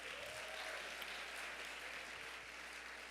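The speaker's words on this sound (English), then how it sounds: "let's give them another round of applause." Audience applause fills a university classroom session, a steady, dense wash of clapping that holds evenly throughout at a moderate distance.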